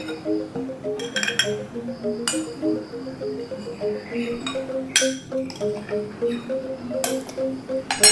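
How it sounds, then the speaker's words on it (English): A spoon clinks against a glass or bowl while cutting daluman grass jelly for es daluman, giving several sharp, separate taps spread over a steady melodic background. "Then we cut a little bit of the daluman jelly using a spoon."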